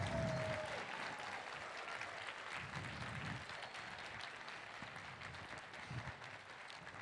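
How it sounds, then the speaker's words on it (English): An audience at a convention closing ceremony applauds, with sustained steady clapping from a large crowd in a room and a few faint cheers mixed in throughout. "this better be the biggest applause I hear in the room"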